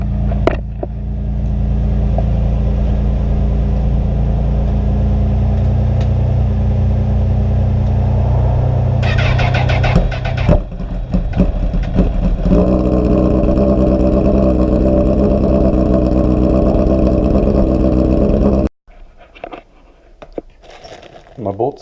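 A car engine idles steadily while warming up, a loud, continuous low rumble with occasional crunching handling noises on top, before it cuts off abruptly near the end.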